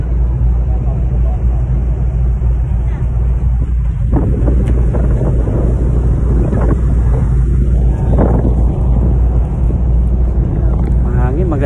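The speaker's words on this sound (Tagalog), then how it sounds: "Mahangin." Strong wind buffets the microphone on the open upper deck of a passenger ship heading toward Manila, a steady loud roar with low engine rumble beneath, while people talk intermittently over it.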